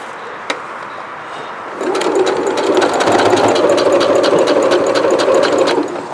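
A Brother sewing machine hums steadily for several seconds stitching through three layers of blackboard fabric, starting after a brief tap and quiet pause, then stopping near the end; close and fairly loud.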